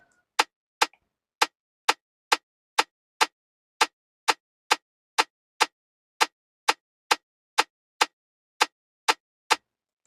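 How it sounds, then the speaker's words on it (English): A steady run of crisp, sharp snare clicks in an Afrobeat rhythm repeating at a quick, even pace, alone without other instruments, programmed in FL Studio. "So after that, I just play my snare,"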